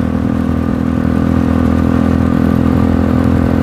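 Steady, continuous engine drone and wind rush from a motorcycle cruising along a scenic road in Laguna, Philippines, loud and close throughout with no pauses or talking.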